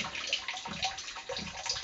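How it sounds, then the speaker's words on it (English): Water splashes and trickles steadily from the outlet of a homemade ram pump filling a tank at the top of a hill, a continuous close hiss of running water with no talk over it. "wee bit of water coming out"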